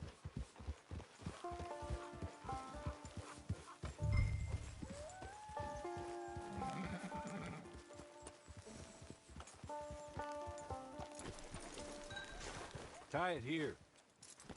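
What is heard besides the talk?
horse hooves clip-clopping in video game Red Dead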